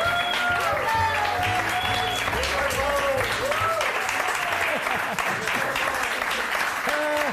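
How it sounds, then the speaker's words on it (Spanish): A studio audience on a Spanish comedy show claps loudly for a guest, sustained applause over several seconds while people talk and laugh over it. "Un aplauso para él."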